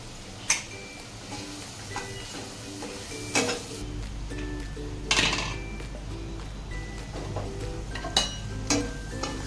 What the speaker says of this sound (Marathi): हिरवी मिरची परतून घेऊया त्यामध्ये टाकू हळद